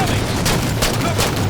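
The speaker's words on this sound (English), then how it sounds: "I'm under fire!" Dense, continuous firefight from the Halo 4 campaign, with rapid overlapping gunshots and bursts of automatic fire rolling loudly and closely throughout, mixed with battle noise.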